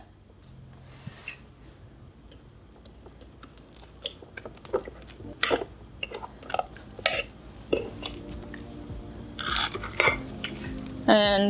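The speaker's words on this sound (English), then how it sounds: "So you go ahead and you flip it, open it," A waffle maker is flipped over and opened, giving a close run of clacks, clicks and metallic rattles that build toward a louder clatter and creak at the end, with a brief word spoken early on.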